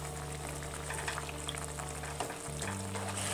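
Honey ginger pork chops simmer in a thickening sauce, a steady close bubbling hiss with constant low hum that dips briefly near the end.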